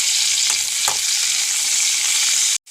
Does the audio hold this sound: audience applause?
no